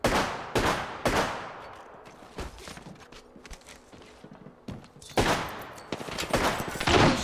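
Volleys of sharp video game gunfire crack in dense bursts, loud and close, with a quieter stretch of scattered shots and rattling in the middle before heavy firing resumes.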